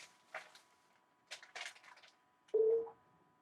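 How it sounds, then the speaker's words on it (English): Phone dialing through Google Voice: a few short bursts of keypad tones separated by pauses, ending in a louder steady tone, with no one speaking. "So I'm dialing the number."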